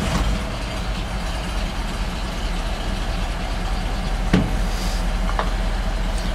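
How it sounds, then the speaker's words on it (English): A 1955 Ford F-100 pickup idles with a steady, loud low-frequency rumble, with a brief click partway through and no talking. "Turn the key to on, pump of the gas, hit the starter button,"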